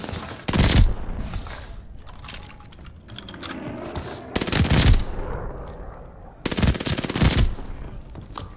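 A PPSh-41 submachine gun fires in Call of Duty: Vanguard's gunfight mode, three loud rapid bursts of automatic fire spaced a couple of seconds apart, with quieter game ambience between them.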